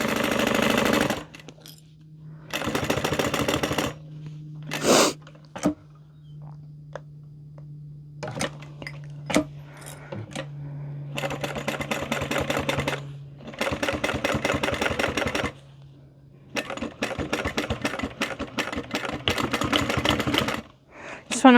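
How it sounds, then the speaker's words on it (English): A sewing machine back-stitches the Alice Wristlet from Lacus Design in loud, close, rapid mechanical bursts that start and stop repeatedly, with short pauses, hand clicks and a low steady hum between runs. "Just want to make sure you get a good back stitch right there to keep that in place."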